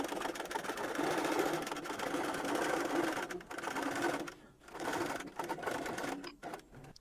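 A long arm quilting machine on a 10-foot Grace Company Quilters Evolution Elite rolling frame bastes down the sides of a loaded quilt, stitching in fast, rattling bursts with a few brief pauses near the end.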